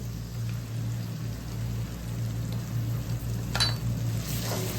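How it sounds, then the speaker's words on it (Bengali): Chopped tomatoes tip into spice paste frying in a pan for a crab curry, giving a steady close sizzle with a soft stir and a faint clink of utensil near the end. "হালকা নাড়ার পর আমি এখানে টমেটো কুচিগুলো দিয়ে দিচ্ছি।"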